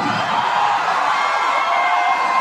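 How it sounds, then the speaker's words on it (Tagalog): Large crowd at a political rally in Pasay cheering and shouting continuously, a loud dense roar with whoops and screams blending together, with no clear speech over it. "Parang walang tigil ang sigawan dito sa Pasay"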